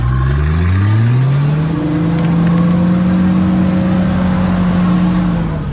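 A Nissan Patrol's engine revs hard during off-road driving, a loud, sustained drone that climbs in pitch and holds steady near and continuous throughout.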